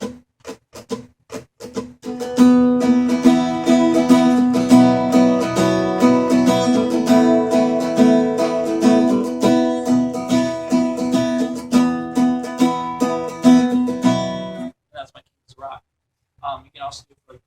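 Acoustic guitar strumming a pattern for about twelve seconds, with steady rhythmic strokes and sharp percussive attacks, then a few sparse muted strums near the end; no talking.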